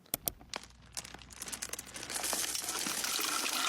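Food is poured into a toilet, a crinkling rustle followed by a rising, continuous splashing pour of liquid and solids, close and steady.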